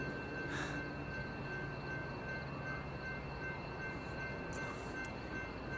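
A BNSF freight train passes Carlsbad Poinsettia station at slow speed, a steady broadband rumble with a faint high tonal whine throughout and no talk.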